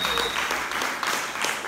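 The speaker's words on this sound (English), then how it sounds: "Can you clap your hands for that?" A church congregation in Los Angeles claps their hands together during a Sunday service, making a dense, steady burst of applause that fills the whole moment without a break.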